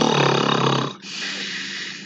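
A voice imitates loud snoring: a long, rough, raspy rumbling breath followed by a second, breathier drawn-out snore, up close.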